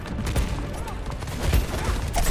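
Rapid bursts of gunfire fill a Junker Queen match in the Overwatch video game, with repeated shots over a constant game din and someone commentating in Thai.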